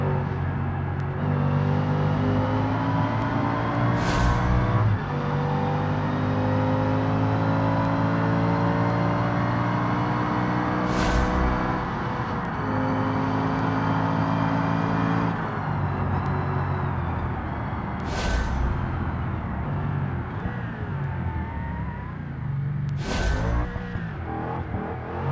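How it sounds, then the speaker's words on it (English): Car engine in BeamNG racing, sliding sideways after clipping the grass, with a steady loud drone of shifting engine pitch that drops and recovers at several gear changes. "A little bit of drifting there"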